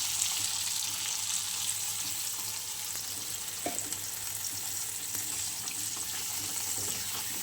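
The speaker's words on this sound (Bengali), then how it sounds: "চলো এবার আমি জল দিয়ে দেবো বন্ধুরা" Water poured into a hot pan of cooking small shrimp, a steady, even hiss of sizzling and bubbling that runs unbroken throughout at moderate loudness.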